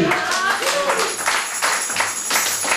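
A church congregation claps and applauds for Jesus in an irregular, loud, close burst, with voices calling out over the clapping.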